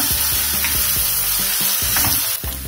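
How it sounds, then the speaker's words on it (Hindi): Finely chopped garlic and ginger pieces sizzle in hot oil in a pan for dhaba-style paneer masala, a steady loud frying hiss with a spoon scraping and stirring in a regular rhythm. "अब हम इसमें लहसुन, जो हमने बारीक चॉप किया हुआ था, और जो हमने अदरक के पीसेस लिए थे वो भी ऐड कर देंगे, उनको भी हम साथ ही भून लेंगे।"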